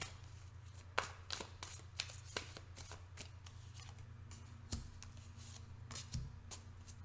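A tarot card deck riffled and shuffled in repeated crisp bursts of card slaps, close and fairly loud, with a steady low hum underneath and no talking.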